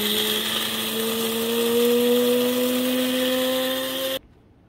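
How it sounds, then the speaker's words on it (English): A Cuisinart DGB-650BC Grind-and-Brew coffee maker grinds coffee beans with a loud, steady high-pitched whine whose pitch rises slightly. It runs alone for about four seconds and then cuts off abruptly into near silence. "the grinder is only on for less than a minute, but then I shut it off"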